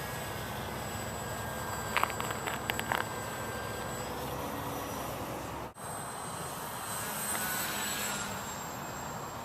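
Radio-controlled Parkzone Spitfire MKIX model airplane making a slow pass, a steady engine drone with a high whine running throughout at moderate loudness, briefly cut near the middle, with faint clicks early on.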